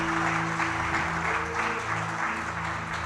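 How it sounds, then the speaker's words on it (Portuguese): Congregation applauding during a Sunday church service, steady massed clapping over a sustained musical drone. "Dê uma salva de palmas a Jesus, que Ele é Deus."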